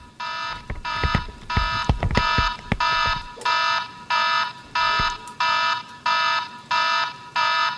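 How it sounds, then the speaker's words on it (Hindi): A house alarm ringing loudly in repeated even electronic beeps, about a dozen regular pulses, with a few sharp knocks and clatters mixed in during the first few seconds. "घर में अलार्म की आवाज यार"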